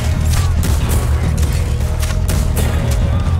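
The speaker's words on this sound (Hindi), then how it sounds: "भागते भागते गोलियां चला रहे हैं" Gang members run and shoot in the Red Dead Redemption 2 video game, producing loud, rapid gunshots in quick succession over a continuous low rumble of battle noise.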